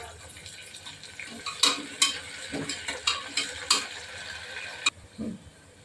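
A cup of chopped onion and garlic fries in a pan for mutton curry, a spoon scraping and stirring through it in quick repeated strokes over a low background sizzle.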